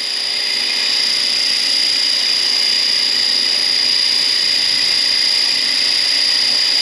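An RC scale Bell Huey 412 model helicopter running at half throttle, a loud, steady high-pitched whine from the motor and rotor, continuous and close, with no talk.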